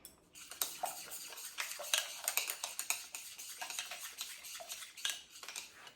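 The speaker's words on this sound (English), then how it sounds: "So keep mixing until there is no like a solid like a dot in it" Batter for fried pork tenderloin being mixed in a bowl, with rapid, uneven clinks and scrapes of a utensil against the dish, close and busy, with no one talking.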